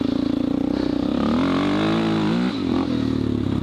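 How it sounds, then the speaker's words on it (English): A motorcycle engine revs hard as the rider pulls a short wheelie, the pitch climbing and dipping in a steady loud drone with a brief drop near the end, close to the rider, with no talk. "That wheelie is for you, that little wheelie there."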